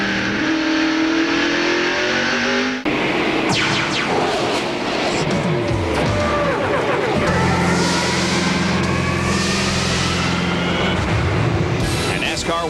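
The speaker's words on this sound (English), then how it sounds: "And here's Jeff, as he's still out there with a comfortable lead, passing some of the slower cars." NASCAR Winston Cup stock cars racing at Martinsville Speedway in Virginia in 1997, engines roaring past with rising and falling pitch as the leader laps slower cars, a continuous loud race-track din with a cut partway through.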